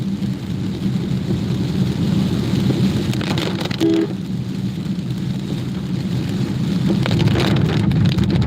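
Heavy rain with thunder in Mumbai: a dense, steady roar of downpour with a low rumbling bed that holds constant throughout, with no voices.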